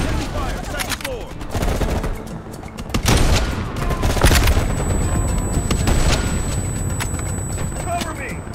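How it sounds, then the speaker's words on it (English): Sustained gunfire bursts and artillery booms from the Call of Duty: Black Ops Cold War mission End of the Line, dense and loud throughout, with shouted soldier voices mixed in over the fighting. "Enemy fire, second floor!"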